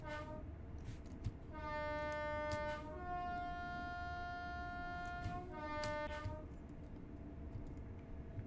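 Interior of a class 801 train on the East Coast Main Line in the Train Sim World 4 game, with a steady cabin rumble and a long rising then falling electric traction whine. Sustained tones swell and fade throughout.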